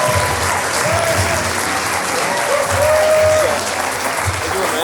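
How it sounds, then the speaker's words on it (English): A St. Louis audience at a live event gives a loud, continuous round of applause as soccer players are welcomed to the stage, with whoops and cheers rising over the clapping. "Let's have a big St. Louis round of applause."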